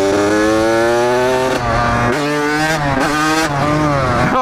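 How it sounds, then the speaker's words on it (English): A motorcycle accelerates hard and up close, its engine whine climbing in pitch and then dropping at each of several quick gear shifts, loud and steady with no voices over it. "This bike shoots up way faster than it used to."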